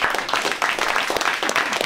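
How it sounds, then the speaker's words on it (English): Audience clapping at a talent showcase, a fairly loud, uneven burst of hand claps from a small crowd with pulsing clusters of claps. "So give yourselves a round of applause."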